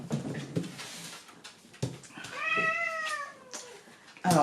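A cat meows several times in drawn-out, rising and falling cries, sounding annoyed as a dog tries to get it to play ball; close by and fairly quiet, with brief thumps and rustles between the calls.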